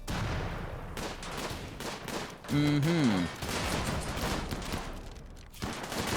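Rapid bursts of gunfire from the video game RimWorld, with turrets firing, dense overlapping shots with a brief tonal electronic sound in the middle.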